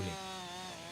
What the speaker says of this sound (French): Des arbres morts qu'il faut désormais abattre. À la tronçonneuse, Mike est navré par l'ampleur de la tâche.